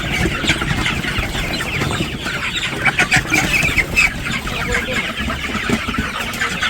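Chickens on a village farm cluck and squawk in a steady, busy jumble while being caught for sale, with brief louder flurries and no talk.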